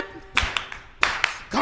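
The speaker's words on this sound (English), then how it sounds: "Come on, clap your hands now." People clap their hands at a spirited church-style gathering, a few loud, spaced claps close by, with voices singing or calling between them.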